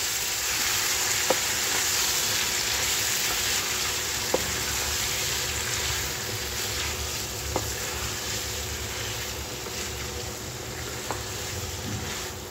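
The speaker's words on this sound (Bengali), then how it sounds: "দিয়ে দিচ্ছি সেদ্ধ করে রাখা আলু। এখন নেড়ে চেড়ে সবগুলো সুন্দরভাবে কষিয়ে নেব।" Boiled potatoes are stirred and fried in spices in a hot pan, giving a continuous dense sizzle with occasional sharp clicks from a utensil striking the pan, close and without talk.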